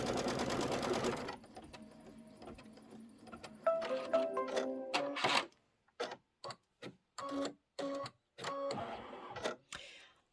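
An embroidery machine sews a quilting stitch in cream thread on a Kimberbell spring umbrella design. It opens with a short, dense burst of fast stitching, then gives way to sparse mechanical clicks and taps with brief pauses.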